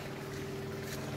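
A boat motor drones steadily across the water, a low continuous hum with faint wind and no talking.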